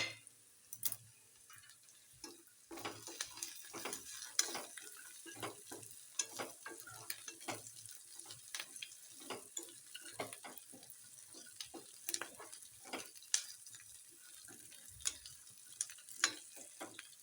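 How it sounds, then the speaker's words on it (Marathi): Curry leaves, onion and chilli frying in hot oil, crackling and popping in irregular bursts with stirring scrapes, close but fairly quiet, for breakfast upma. "कढीपत्ता जरा हे पण टाकून घेऊ तेलात तळे जातील"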